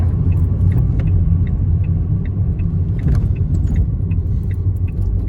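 A car decelerates on approach to a road junction, its low engine and road rumble steady and close throughout with faint small rattles above, no talk.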